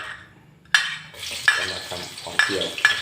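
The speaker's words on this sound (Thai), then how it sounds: "เดี๋ยวเรามา เจียวหอมก่อนเลยนะครับ" Sliced shallots fry in oil with a bright, steady sizzle that starts suddenly, punctuated by a few metallic clinks and scrapes of a utensil against the pan, close by.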